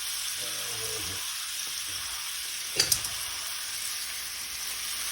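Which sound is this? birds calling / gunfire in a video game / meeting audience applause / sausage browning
sausage browning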